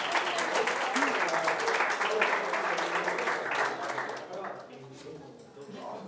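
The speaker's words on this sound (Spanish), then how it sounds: "¡Un aplauso para vosotros!" An audience at a lecture on creativity and humour breaks into loud, dense applause, with some voices mixed in, which gradually thins and fades over several seconds.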